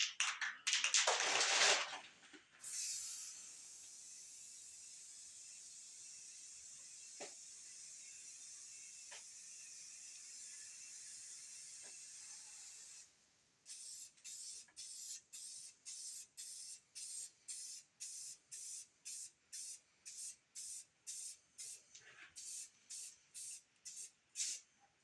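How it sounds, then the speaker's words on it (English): Spray hitting a vehicle frame under restoration: a steady hiss runs for about ten seconds, pauses, then turns into a rapid train of short, even bursts, fairly close and moderately loud with no talk. "I'm gonna go ahead and spray it down."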